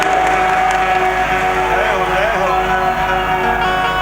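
A crowd applauds and cheers at a live event, a loud, sustained clapping with a voice speaking over it.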